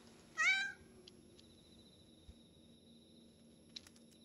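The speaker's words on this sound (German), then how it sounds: "Ach, die Katze." A single short meow from a cat in the horror video game Yamawari: Lost in the Dark, fairly clear against a quiet low ambient hum, followed by faint tones and small clicks.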